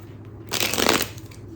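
A quick riffle of tarot cards being shuffled, a brief crisp flurry close by over a low background hum.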